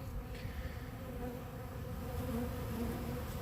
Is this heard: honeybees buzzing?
yes